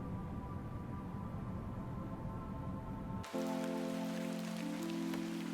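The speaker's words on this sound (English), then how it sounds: "Started raining again." Steady rain hisses and patters in the adventure game The Excavation of Hob's Barrow, then gives way midway to a brighter ambient bed of sustained tones with lighter rain texture continuing.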